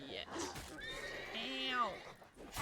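Roach the horse from The Witcher 3 lets out a single loud, close whinny that rises and then falls away, followed by faint hoof clops, with someone speaking briefly around it.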